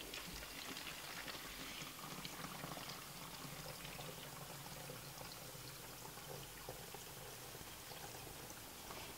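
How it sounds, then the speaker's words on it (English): Hot water pours steadily into a container while a homemade disinfectant cleaner is mixed, a continuous close splashing wash that holds from start to finish with no talk. "I'm actually going to pour in the hot water."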